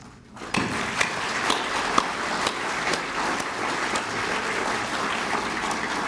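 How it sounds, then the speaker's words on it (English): Sustained audience applause at a Citizen of the Year award ceremony, a dense steady wash of clapping that starts abruptly and holds evenly throughout, with a few sharper individual claps standing out. "Let's applaud the incredible efforts of each of the fine individuals and groups"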